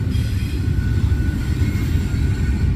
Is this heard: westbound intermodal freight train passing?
yes